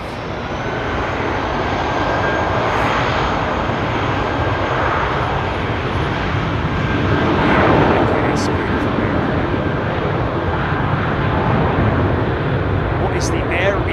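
Aircraft engines roar at London Heathrow Airport, a loud steady broadband rumble swelling slightly midway and persisting throughout.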